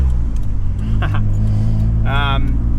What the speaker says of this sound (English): Let's see if I can do a gear change.